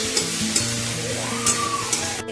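Fried potatoes and onions with turmeric, chili powder and salt are stirred in a home kitchen pan, a soft sizzle under scraping spoon strokes that come in a few close, irregular pulls.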